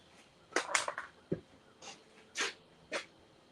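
A pet dog indoors gives a few short, close snorts and sniffs in separate bursts, with brief quiet gaps between them.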